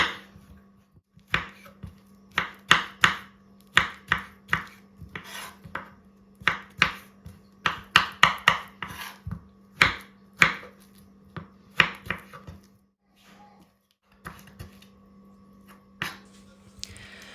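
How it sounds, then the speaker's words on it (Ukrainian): Knife finely chopping bananas on a board, a long run of sharp, close taps in uneven quick bursts with short pauses, crisp and fairly loud. "Будемо нарізати дрібненько банани"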